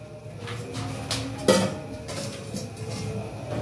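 Washed cabbage is tipped into a pot for boiling, heard as clanks and clinks of cookware with a sharper metallic knock midway over a low background hum, close by, with no voices.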